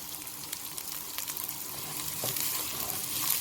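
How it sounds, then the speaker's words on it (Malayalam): Onion frying in a pan for a fusion pasta, a steady close sizzle with faint crackles and a brief stirring scrape, no talk. "അതൊന്ന് സോട്ടാവുമ്പോൾ നമുക്ക് ഒണിയൻ ചേർത്ത് കൊടുക്കാം."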